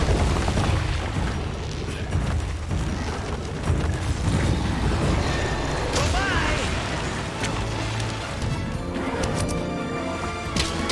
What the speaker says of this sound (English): Point blank, giant laser. That's Vasarius' spam attack.